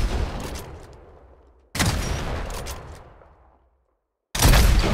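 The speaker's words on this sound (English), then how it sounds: "Open the shop and buy yourself a sniper rifle." A sniper rifle fires in the mobile shooter game Hyper Front, with three loud, sharp shots, each trailing off into a long echoing decay, and the last one cut short at the end.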